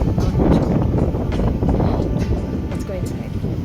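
Strong outdoor wind roaring and buffeting close against the microphone, a loud, constant low rumble while a person talks over it.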